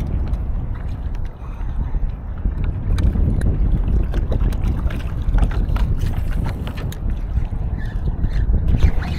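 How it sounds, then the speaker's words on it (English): Outboard engine on a Gheenoe small boat running steadily on Florida saltwater shorelines, a constant low rumble with wind noise and water splashing, fairly loud and continuous throughout. "start the engine, move on to the next spot"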